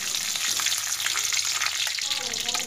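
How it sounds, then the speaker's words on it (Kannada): Garlic and curry leaves fry in hot oil with mustard seeds, a dense, bright continuous sizzle close up with a few faint crackles and a slight shift near the end. "ಇದೊಂದೊಂದು ಚೂರು ಫ್ರೈ ಆವನಡು"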